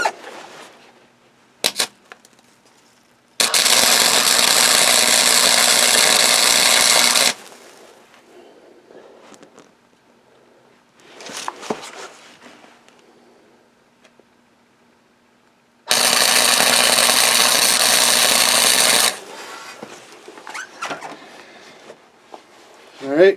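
Tack welding a custom chopper's brake lever part on the bench: two loud, steady crackling bursts of about four and three seconds, separated by quieter handling noise and scattered clatter.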